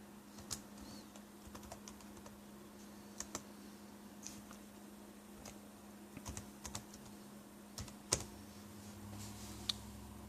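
Keys tapping on a PC keyboard, quiet and close, in irregular bursts of clicks with a low hum beneath and no talking.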